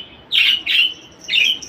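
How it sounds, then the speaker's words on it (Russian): Pet parakeets squawk in three loud, harsh bursts close by, each lasting a fraction of a second with short gaps between, no voices present. "Мои попугайчики сошли с ума, а я вот кушаю свои фруктики."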